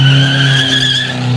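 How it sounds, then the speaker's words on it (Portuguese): Chevette race car fitted with an Opala engine running on a track in a category 4 event, a loud steady engine drone with sustained tire squeal throughout, no talk. "Esse é o piloto Marcelo, é o segundo piloto da categoria 4, motor de Opala."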